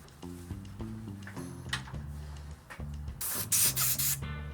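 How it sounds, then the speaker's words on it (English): An airbrush sprays a fine mist of paint in a large art studio, giving a steady hiss that grows louder and breathier toward the end, with intermittent tonal hums and clicks from the equipment. "Now I'm using an airbrush, which is to a spray paint can what a baseball bat is to a toothpick. It can do extremely fine mists of paint."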